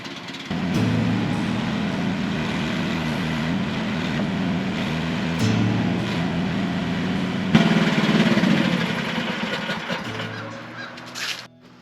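A mini excavator engine idles steadily with its idle raised partway through, a continuous near rumble that rises and holds louder toward the end before cutting out.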